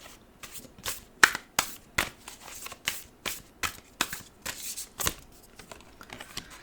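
A deck of Angels and Ancestors oracle cards is shuffled by hand, producing a close, crisp run of about fifteen riffling slaps and flutters at an uneven rhythm, with no talking.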